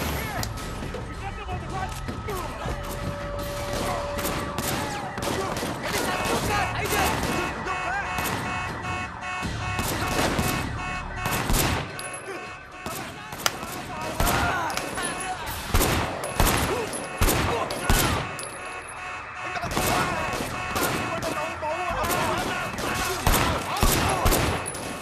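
A police-response firefight in the video game Sleeping Dogs: dense, continuous volleys of gunshots over a steady wailing alarm-like drone, with voices talking throughout the chaos.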